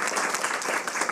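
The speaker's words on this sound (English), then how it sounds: "Can I have a big round of applause" Dense, steady applause from a crowd, many hands clapping at once without letting up.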